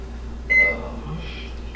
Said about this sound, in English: so I'll set my timer to about 3 minutes